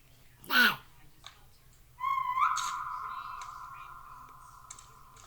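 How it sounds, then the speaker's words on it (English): A person whistles a single steady held note that rises briefly at the start and then sustains for about three seconds, following a short sharp higher sound, close by in a quiet room. "Why'd you whistle again?"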